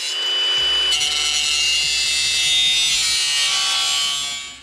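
A power tool cuts and trims a metal sill repair panel for a Ford Landau Coupe hardtop restoration, giving a loud, steady high-pitched grinding whine for several seconds that fades out at the end.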